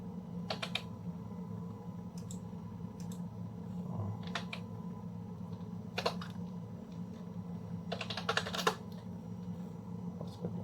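Someone types a ping command on a laptop keyboard in a command prompt, heard as short scattered bursts of key clicks over a steady low hum, with brief pauses between the groups of strokes.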